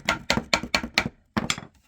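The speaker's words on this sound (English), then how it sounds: "just give it a little tap with the hammer" A hammer taps a wooden wedge to hold a board in place for hand planing, giving five quick evenly spaced knocks, a short pause, then two more, each crisp and close.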